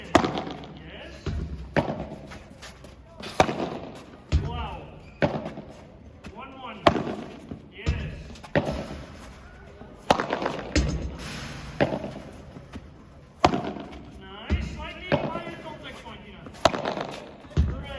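Padel volley and bandeja practice on a court, with the racket striking the ball in sharp, hollow pops spaced a second or two apart, each followed by a bounce. A coach talks between and over the hits.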